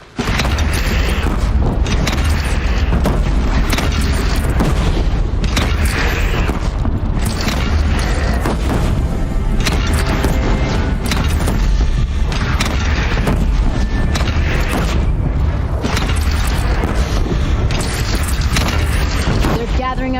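Cannon fire and explosions in the video game Horizon Zero Dawn, a continuous barrage of heavy booms and rumbling impacts with dense battle noise throughout, loud and close with voices mixed in.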